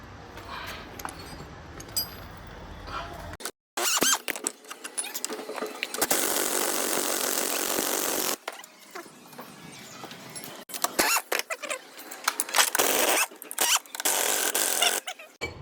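A ratchet wrench loosens the gearbox mounting bolts on a Hyundai i20, giving close bursts of rapid metallic clicking separated by short gaps and quieter handling noise.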